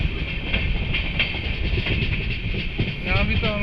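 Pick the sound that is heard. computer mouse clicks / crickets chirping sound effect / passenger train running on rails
passenger train running on rails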